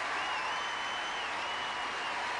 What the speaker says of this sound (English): the crowd obviously very much appreciates their performance.